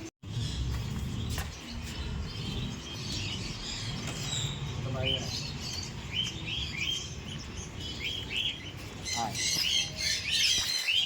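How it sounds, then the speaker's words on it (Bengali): Lovebirds and other caged birds in an aviary colony squawk and chirp in overlapping bursts, loud and near, with faint human voices in the background. "দেখুন কত রকমের পাখির মিউটেশন আছে এখানে।"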